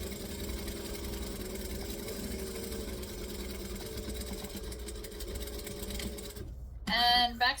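A sewing machine back stitching hums and chatters steadily at close range, a continuous motor drone with a short clattering burst near the end.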